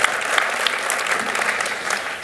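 Audience at a 2023 New Year's greetings ceremony in Callian applauds the first deputy mayor being introduced, a steady, dense wash of clapping filling the room throughout.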